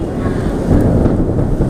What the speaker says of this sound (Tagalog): Ang kumukulog